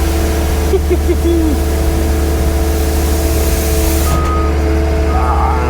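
A road sweeper vehicle works a road defect repair site, front push sweeping with a loud, steady engine rumble close by and brief higher scraping and squeaks near the end.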